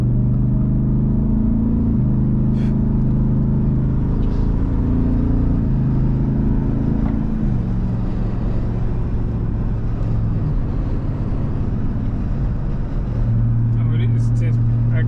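A 2024 Ford Raptor R engine drones steadily while driving, with a low rumble that shifts pitch at gear changes, running loud and constant under people talking throughout.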